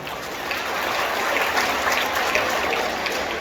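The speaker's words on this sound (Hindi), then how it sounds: "एक बार मैं चाहूंगा कड़पा के समस्त भक्त जोरदार तालियां बजाकर वंदन करें" Devotees in an audience in Kadapa, Andhra Pradesh, applaud loudly at a temple idol consecration ceremony with bhajan singing. The clapping is a dense, steady wash that runs throughout with no speech.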